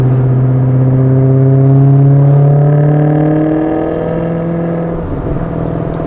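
A 2015 Maserati GranTurismo's engine revs up to around 2,000 RPM, a loud, smooth, rising drone with rich harmonics that swells, then eases back into a steady hum.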